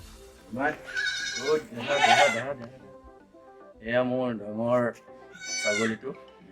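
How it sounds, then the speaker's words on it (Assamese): A large Beetal goat bleats repeatedly at close range, loud wavering cries in two bursts separated by a short pause. "এয়া মোৰ ডাঙৰ ছাগলী"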